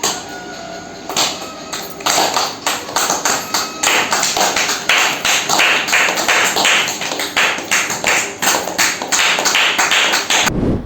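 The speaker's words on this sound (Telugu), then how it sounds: "ఈ చక్కని ధ్యానానికి చేతులు ఎత్తి చప్పట్లు కొడదాం. చేతులు పైకెత్తి చప్పట్లు కొడాలి." A group of school students clap their hands together at the close of a meditation class, a dense, loud, fairly steady patter of many hands that runs for about ten seconds and then stops abruptly.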